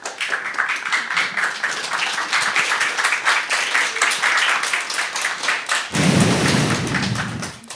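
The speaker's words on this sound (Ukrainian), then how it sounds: "під ваші оплески е, представляю випускник" Dense audience applause at a stand-up comedy show, a continuous crackle of many hands clapping, joined near the end by a low rumbling thump before fading.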